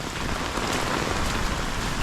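Heavy monsoon rain pours down in a dense, steady roar of drops drumming on surfaces, loud and unbroken throughout with no voices.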